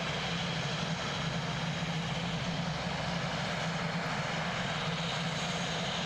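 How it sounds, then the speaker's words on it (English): A Sounds Air Pilatus PC-12 turboprop engine at Christchurch Airport, a loud, steady broadband roar and whine holding constant throughout with no voices. "Awesome Sounds Air PC-12."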